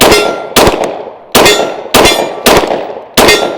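A Glock 23 pistol fitted with a 9mm conversion barrel fires six loud, sharp shots outdoors at an irregular pace, each crack ringing out and fading before the next.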